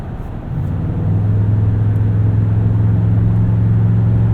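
A 2020 Toyota Tundra TRD Pro with its 5.7L V8 cruises down the highway, giving a steady low engine drone and road rumble that settle into an even hum after a brief rise.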